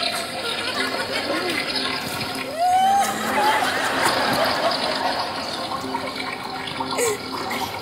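A toilet flushes, picked up by a live microphone someone forgot to switch off: a steady rush of running and draining water with a sharper surge in the middle, heard alone at moderate loudness.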